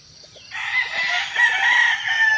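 Gamefowl in a pen crow loudly and close by in a long, wavering call, with soft clucks underneath.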